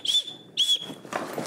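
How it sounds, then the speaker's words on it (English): An emergency whistle built into an Eagle Creek Tour Travel Pack 40L backpack gives two short, shrill blasts, close and clear, with a little handling noise afterwards. "if you need to use the whistle,"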